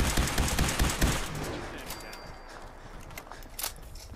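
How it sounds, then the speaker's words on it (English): Rapid bursts of Institute rifle gunfire in a modded Fallout-style game, dense and loud at first, then thinning into scattered shots and game effects. "No, we gotta switch to the Institute rifle."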